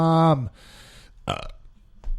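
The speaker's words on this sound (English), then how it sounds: "You burped out loud." A single loud, deep burp opens the clip, followed by quieter murmurs and a short vocal sound, with light talk afterward.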